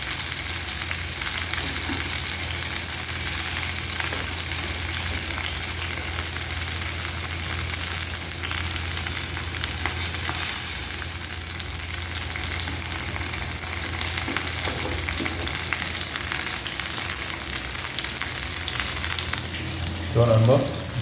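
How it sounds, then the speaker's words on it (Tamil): Fish coated in a heavy chilli-powder masala fries in hot oil, giving a steady close sizzle that runs unbroken with small crackles and a brief stir or scrape near the end. "மீன் பொரிச்சிட்டு இருக்கிறேன்"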